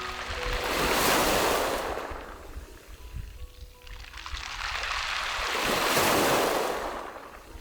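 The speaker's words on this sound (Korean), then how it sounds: "오랜 세월 파도가 빚어낸 동글동글한 몽돌들이 서로 부딪히며 맑은 소리를" Surf washing over round pebbles on the Baekyado pebble beach in Yeosu, two broad swells of rushing, rattling stones building and fading, loud and close, with no voices.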